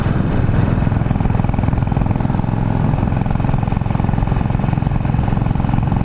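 A Royal Enfield motorcycle engine runs steadily while riding, a loud, even, low thumping drone that holds without pause from start to finish.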